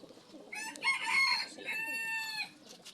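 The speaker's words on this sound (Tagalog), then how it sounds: "Ito yung hen, pinakawalan ko." Hens cluck and call nearby in a short burst of harsh, rising vocalizations, fairly faint and alone.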